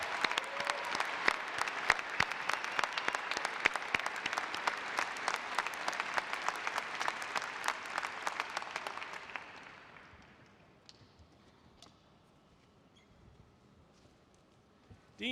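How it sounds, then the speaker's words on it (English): An audience applauds at a university fall commencement ceremony, loud sustained clapping from a large crowd in a hall that fades out after about ten seconds into quiet. "can we give all of our new Doctors of Education a big round of applause?"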